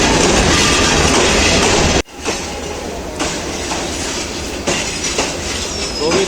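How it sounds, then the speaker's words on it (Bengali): The Parabat Express bound for Dhaka roars past up close at Sreemangal, a loud continuous rush of wheels and carriages with a sharp break in the sound, then rhythmic clickety-clack as the cars roll by. "আমাদের ঢাকা অভিমুখী পারাবত এক্সপ্রেস চলে এসেছে।"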